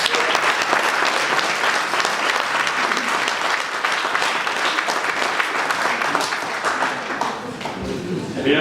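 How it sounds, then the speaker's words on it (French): Sustained audience applause at a French municipal election campaign meeting in Val de Briey, dense steady clapping filling the room with crowd noise, fading slightly near the end. "applaudir Dino Barci."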